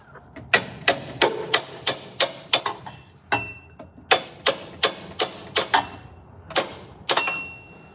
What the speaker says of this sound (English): Encouragement taps from a hammer.